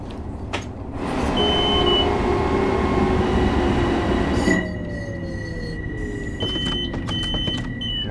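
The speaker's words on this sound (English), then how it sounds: "because it is a loud train" An M7A MTA commuter train on the Harlem Line in snowy conditions, running loud and steady with a heavy rumbling drone, long squealing wheel tones riding over it and a shift in pitch midway, no talking.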